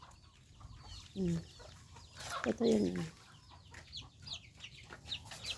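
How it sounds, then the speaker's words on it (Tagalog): Free-range chickens cluck and murmur softly at bedtime, with a few louder squawks in the middle and a voice speaking briefly over them. "Oras ng tulugan ng mga manok."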